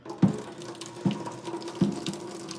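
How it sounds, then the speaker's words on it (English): Water poured from a pan into a sink while a plate holds back the noodles, giving a steady close splashing stream with three sharper gushing surges; no talk. "you tip it, and then all the water is pouring out like this"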